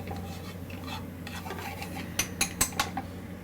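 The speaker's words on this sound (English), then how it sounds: "Toasting up the seasonings." Chili powder, pepper and oregano toast in a pan with a soft, faint sizzle, then a short run of sharp metallic clinks and scrapes from a utensil against the pan.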